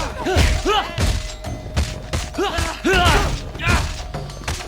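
Punches and blows land in the PS3 video game Sleeping Dogs, a series of loud close thuds and impacts in irregular bursts, mixed with grunting voices and game sound.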